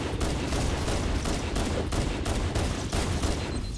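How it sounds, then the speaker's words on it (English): Rapid pistol shots crack out in Halo: Combat Evolved, a steady volley of loud, evenly spaced bangs over continuous battle noise, with no talking. "Sniping with a pistol!"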